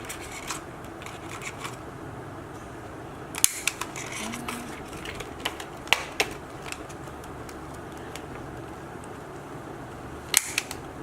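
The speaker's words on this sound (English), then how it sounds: "I'm going to use a corner rounder to just round off the corner of this flap here." A corner rounder punch trims the corner of a transparent plastic gift box flap, giving a few crisp, sharp snaps and clicks among light handling and rustling close by.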